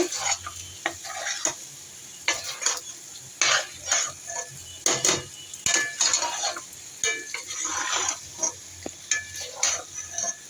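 Pasta and sauce stirred in a pan with a spoon, giving repeated scraping and clinking strokes over a soft sizzle, close and fairly steady across the whole stretch.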